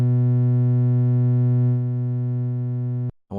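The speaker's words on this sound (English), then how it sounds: "we got some interesting distortion there" A sustained synth tone runs through the Cytomic The Scream plugin, which applies asymmetrical clipping distortion and gives it a buzzy, harmonic-rich drone. The tone holds steady, softens slightly midway, then cuts off abruptly with a short glitchy burst.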